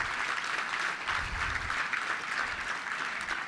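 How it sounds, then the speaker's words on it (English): Steady, dense applause from a luncheon crowd at a Little Rock touchdown club meeting, continuous and even throughout with no pauses, a broad wash of clapping hands filling the room. "How about a round of applause driving 2 hours to be a part of our meeting today?"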